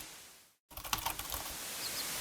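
Keys pressed on a computer keyboard during a Heritage: A Dragon's Tale game stream, heard after a brief dropout as a quick run of faint, close clicks and taps over a soft noisy hiss.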